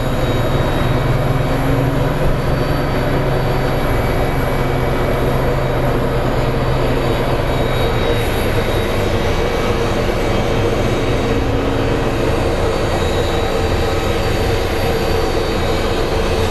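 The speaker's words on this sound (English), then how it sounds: "Here comes our Envoy Air." An Envoy Air airliner comes in to land at Phoenix Sky Harbor International Airport, with a loud, steady roar of jet engines that rumbles on without a break, close and powerful.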